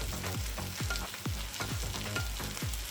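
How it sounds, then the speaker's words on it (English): Meat for Swiss steak browning in an electric frying pan, a close, steady sizzle broken by a regular series of clanks and scrapes as pieces are turned. "I'm going to turn some of this meat. Get a little browning going on there."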